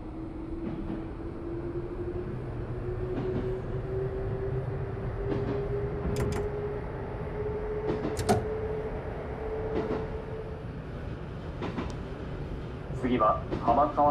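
A Japanese commuter train in the JR East Train Simulator on the Tsurumi and Nambu branch lines pulls away and runs, a rising motor whine over steady rumble and rail clicks, with brief clunks near the end.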